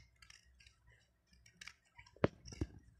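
Scissors snip paper during a classroom craft activity, a few soft rustles followed by two sharp, close cuts near the end.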